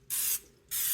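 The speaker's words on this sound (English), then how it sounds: "using the olive oil spray as a binder" Two short hisses from an olive oil spray can coating meat for barbecue, each a bright, steady burst with a brief pause between, close and alone.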